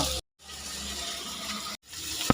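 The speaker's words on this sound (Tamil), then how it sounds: "நம்ம முட்டைக்கோசை வந்து நல்லா வேக வச்சு வச்சுருக்கோம் அப்படியே இதில் ஊற்றிடலாம்" Boiled cabbage and its cooking water poured into a pan, a short rushing splash of liquid broken by two brief silent gaps, close and fairly quiet, ending on a small clunk.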